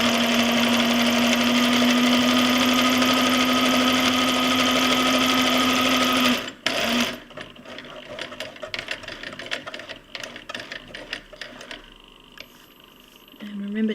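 A sewing machine hums steadily with a fast whirring drone while stitching through the layers of a cloth pad, then stops abruptly, leaving quieter handling noises.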